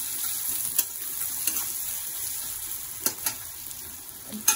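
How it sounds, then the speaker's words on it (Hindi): Turmeric stirred into hot oil in a pan sizzles with a soft, even hiss, with a few light clicks of a spoon against the pan. "हल्दी को डाल देते हैं। इसे हल्का तेल के साथ"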